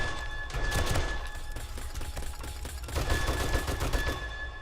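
Robotic turrets fire without stopping in the survival game 7 Days to Die, out in the wasteland. The rapid automatic shots come close, loud and dense for several seconds, with no talking over them.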